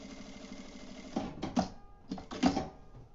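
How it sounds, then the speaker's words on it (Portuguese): A sewing machine stitches a seam closing the opening on a fabric kitchen panel, with two short close bursts of rapid needle chatter separated by a pause over a quiet background. "E vou passar a costurinha aqui pra fechar"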